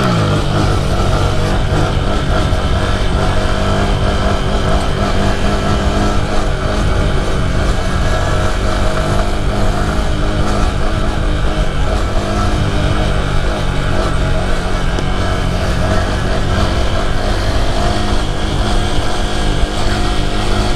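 A Honda Grom motorcycle engine accelerating while riding, loud and steady throughout with continuous close engine roar and wind, no pauses or talk.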